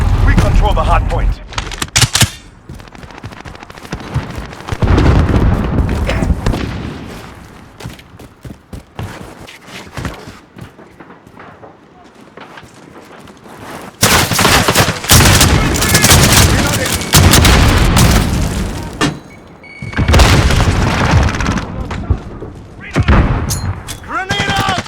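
Rapid gunfire bursts and booming grenade explosions from Call of Duty Modern Warfare multiplayer combat, loud and dense in waves with a quieter stretch midway and voices calling out between shots.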